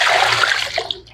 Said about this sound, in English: You pour another water.